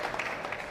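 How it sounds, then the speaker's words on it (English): Crowd applause at a squash match after a long rally, a steady, fairly faint wash of clapping lasting under a second with no clear individual claps. "some good appreciation from the crowd there"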